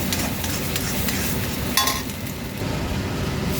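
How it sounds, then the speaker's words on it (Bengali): Vegetables being stirred in a pan, a spoon scraping and clinking against metal over a steady sizzle while the watery vegetables cook down, close and continuous, with one brief sharper clink midway. "এটা হালকা হালকা করে নাড়তে হবে ততক্ষণ অবধি যতক্ষণ না এর জলটা শুকিয়ে যাচ্ছে"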